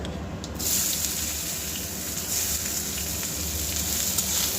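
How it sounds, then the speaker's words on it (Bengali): Chopped onion and green chilli frying in oil in a pan, a continuous bright sizzle that starts abruptly and keeps steady, close and fairly loud with no voices. "পেঁয়াজ আর কাঁচা লঙ্কাটা একটু আমি খুব ভালোভাবে নাড়াচাড়া করে ভেজে নেবো"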